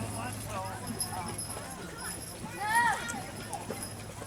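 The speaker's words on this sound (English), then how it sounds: "Horses make so much noise and things here." Horses pulling wagons pass at a colonial-era event in Milford, Michigan, their hooves clip-clopping faintly in the background while people talk nearby and a horse briefly calls out.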